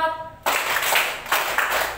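Sharp hand claps land in a loose rhythm, following a counted classroom clapping pattern, a few spaced strikes in a row, close and fairly loud with some room echo.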